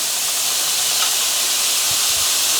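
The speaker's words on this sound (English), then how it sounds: "frying up some beef in small quantities" Small batch of ground beef browning in a pan for chili, a steady bright hissing sizzle throughout, close and continuous, with a few faint low clinks beneath.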